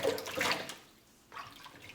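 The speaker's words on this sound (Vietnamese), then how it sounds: "Vân mang đi rửa đây." Cauliflower florets being rinsed in water in a home kitchen: a burst of running, splashing water that fades to near silence, then resumes more softly.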